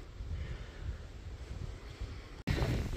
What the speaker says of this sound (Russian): Ветер мешает.